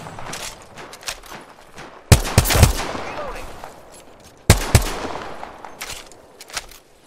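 Gunfire in a video game, heard as two sharp, loud bursts of rapid shots followed by several lighter single cracks, with quieter scattered pops and faint background noise between them.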